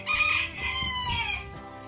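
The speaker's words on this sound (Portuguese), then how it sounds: "Tem um galinho aqui, gente, que ele fica aqui e ele tá cantando." A small rooster crows nearby on a rural yard with a cashew tree and running hens, a fairly loud, wavering cock-a-doodle call lasting nearly two seconds, heard on its own.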